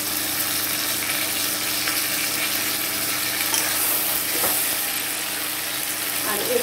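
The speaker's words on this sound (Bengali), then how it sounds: "এবার আমি এতে আদা রসুন বাটাটা দিয়ে দেবো।" Onions frying in a pan with ginger-garlic paste added for a mutton curry, a steady loud close sizzle with light stirring scrapes, continuous throughout without any speech.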